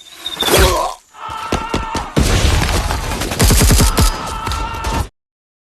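Gunfire and explosions in an action film: loud bursts of automatic fire, heavy impacts and crashing debris follow one another, with a brief lull before a sudden cutoff.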